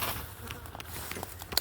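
Honey bees buzz around a hive near a side entrance, a faint, steady hum with a few brief individual bee passes flitting close by.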